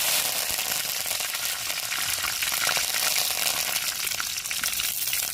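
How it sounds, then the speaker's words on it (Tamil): Mustard seeds and urad dal sputter in hot oil in a pan, a dense, loud, hissing crackle that runs without pause and without any voices. "சட்டி சூடாயிருச்சுங்க எண்ணெய் ஊற்றிக்கிறோம் என்ன சூடாயிருச்சுன்னா கடுகு உளுந்து போட்டுக்கிறோம்"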